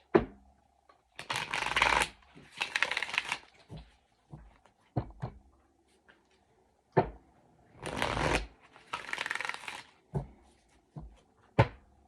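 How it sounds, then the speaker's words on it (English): Deck of Krishna message cards shuffled by hand indoors, several quick riffling bursts separated by pauses and light taps, close and clear with no talking. "let's pull out my Krishna cards, because I love these"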